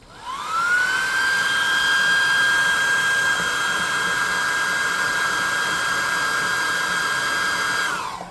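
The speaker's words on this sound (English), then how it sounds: "We're going to hit him with a +2 hot air gun of burning and get some of that brown settled." Hot air gun blowing steadily while drying brown paint on a tabletop miniature, a loud whining whoosh that spins up quickly, holds an even high pitch for several seconds, then winds down.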